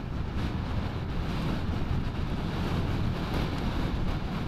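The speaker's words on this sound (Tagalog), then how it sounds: "So malakas yung hangin dito." Strong wind rushes steadily past a motorcyclist's microphone on a coastal road in Bacarra, Philippines, a dense, even low roar filling the whole stretch with no voices.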